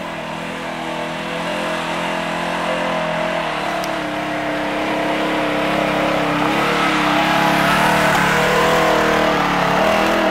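An ATV engine drones and revs as the machine climbs a snowy slope near Dome Peak, a steady mid-pitched motor that grows gradually louder over about ten seconds, with no voices.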